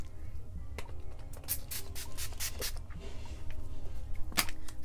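Wet n Wild Photo Focus Natural Finish setting spray is pumped onto a face in a quick series of several short hissing spritzes, close to the mic, over a low room hum.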